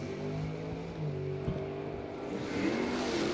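A Chevrolet Chevelle race car accelerates down a drag strip, its engine a steady, loud, dense roar that swells slightly near the end, heard at some distance with no clear speech.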